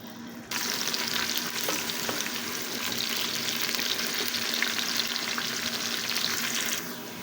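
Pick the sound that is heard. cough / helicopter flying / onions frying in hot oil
onions frying in hot oil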